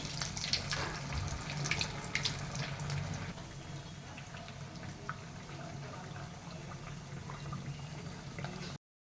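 Kolhapuri Sangam vadas frying in hot oil, giving a steady, close bubbling sizzle that carries on evenly with no talking.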